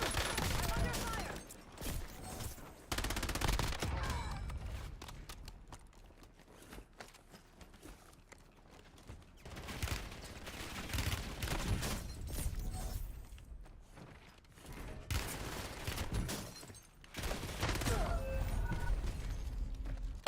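Gunfire from the video game Warzone comes in rapid bursts and sustained volleys, loud and dense, mixed with mechanical clatter and a voice talking intermittently over the action.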